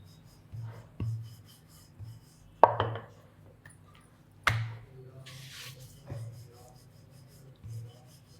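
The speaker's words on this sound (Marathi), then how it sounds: "तर लाटून झाला माझा पराठा." Potato paratha dough rolled out with a rolling pin on a board, soft low rumbling rolls repeating at a steady pace, with a few sharp knocks and taps, quiet and close.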